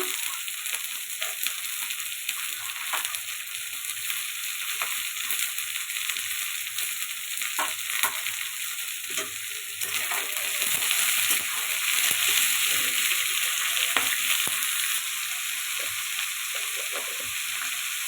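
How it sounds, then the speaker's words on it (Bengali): Capsicum and green peas fry in a hot wok for fried rice: a steady, close, loud sizzle with scraping and stirring running through, and no talking. "খুব ভালো করে ভেজে নেব।"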